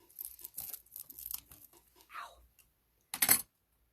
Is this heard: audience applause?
no